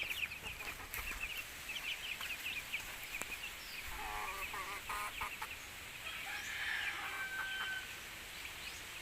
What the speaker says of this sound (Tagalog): May manok ako ditong alaga na nangingitlog.